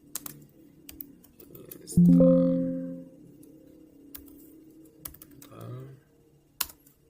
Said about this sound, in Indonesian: itu kita ketikkan sudo apt install